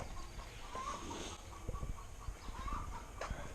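A hen clucks in short, soft bursts nearby, with a few scattered clucks over quiet farmyard background noise.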